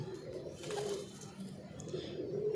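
Pigeons coo in a low, throaty, repeated rumble through a loft of fancy Teddy pigeons, moderately close and continuous, with faint background noise.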